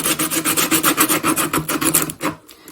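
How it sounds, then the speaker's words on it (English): Steady back-and-forth rasping of 80 grit sandpaper on a painted cinderblock surface, rhythmic strokes close up, ending with a final few slower passes. "taking some 80 grit sandpaper, start sanding."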